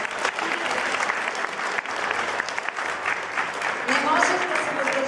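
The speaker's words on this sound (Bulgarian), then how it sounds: "Още един път аплодисменти за тях." Applause from a school audience at a holiday celebration in Plovdiv, sustained and dense, filling the room steadily for several seconds with a slight swell near the end.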